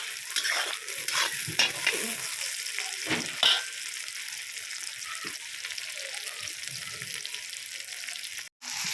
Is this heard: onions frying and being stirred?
yes